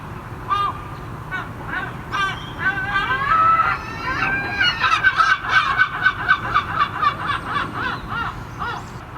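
Loud, harsh lesser black-backed gull calls repeat in a rapid run of laughing yelps and honks, close by, building into a rhythmic series.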